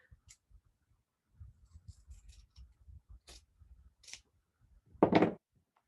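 Scissors snipping through a small fabric square for a kids' craft tent, a run of soft crisp clicks and cuts ending in one louder, longer snip, close and alone in a quiet room.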